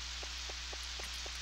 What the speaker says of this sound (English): it's so much more comfortable today because it decided to rain a little bit